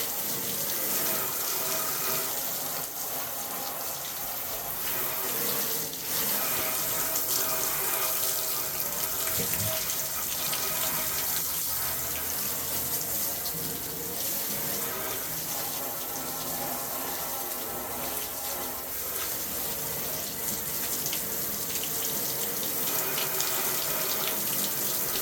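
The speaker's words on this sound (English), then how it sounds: "Quick rinse." Tap water runs steadily over a soapy barbecue grill being rinsed clean, a continuous close splashing and hissing stream that lasts throughout with no talk.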